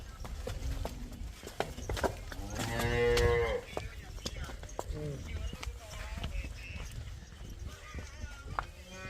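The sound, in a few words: Jersey cross cow mooing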